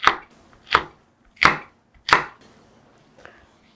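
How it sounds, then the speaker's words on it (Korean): Knife chopping Cheongyang green chili peppers finely on a board, four crisp close strokes spaced about two-thirds of a second apart, then a fainter fifth tap, with no talking. "청양고추를 6개를 준비를 했는데요. 요거를 쫑쫑 썰어서 넣어주세요."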